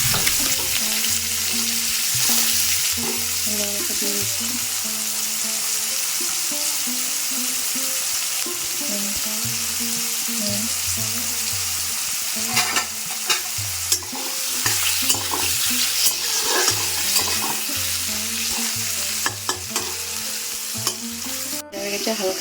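Mixed vegetables frying in a little oil for a no-onion, no-garlic dish, a continuous close sizzle and crackle with stirring scrapes running throughout, steady and loud from start to finish.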